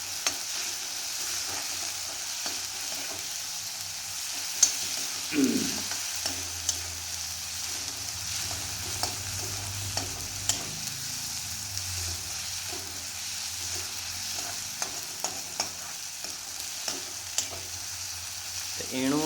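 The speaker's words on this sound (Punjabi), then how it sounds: "ਤੇ ਆਪਣਾ ਇਹ ਤੜਕਾ ਤਿਆਰ ਹੋ ਰਿਹਾ ਹੈ" Tadka of onions frying in a pan for chilli paneer, a soft, continuous sizzle broken by frequent clinks and scrapes of a spoon stirring against the pan.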